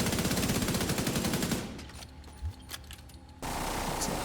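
Video game gunfire including shotguns, with a dense burst of rapid automatic shots that stops abruptly, a few scattered blasts in a quieter stretch, then a sudden loud return of noise.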